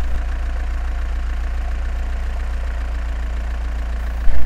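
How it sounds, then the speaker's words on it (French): A van engine idles close by with a dense, steady low rumble and even knocking throb. The sound holds at a constant level throughout, with no voices. "Van."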